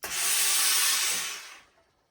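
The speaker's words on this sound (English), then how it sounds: "a bit of steam on it and iron it very briefly" A steam iron pressed onto a fedora hat releases one loud, close burst of hissing steam that holds steady for over a second, then tapers off into quiet.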